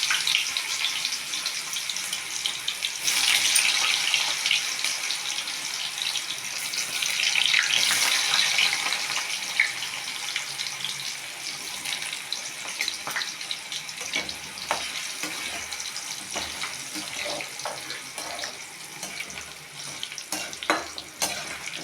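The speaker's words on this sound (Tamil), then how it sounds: "இப்போ எண்ணெய் நல்லா காஞ்சிச்சு கொஞ்சம் கொஞ்சமாக போட்டுருக்கேன்" Raw banana slices frying in hot oil for crispy chips, a steady close hiss and crackle of bubbling oil that swells around the middle and thins toward the end, with no talk.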